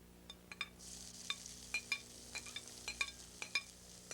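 Barbecue pork stir-fried in a pan with about a tablespoon of oil over a lit burner, a faint steady sizzle under a run of sharp metallic spatula clinks and scrapes against the pan.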